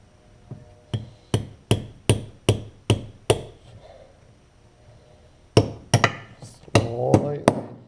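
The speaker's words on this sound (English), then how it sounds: "Lightly tap it back into place." Mechanical seal and impeller shaft being lightly tapped into place on a 1985-86 Suzuki LT250R, a run of seven sharp evenly spaced taps, a pause, then another quicker cluster of knocks, close and crisp.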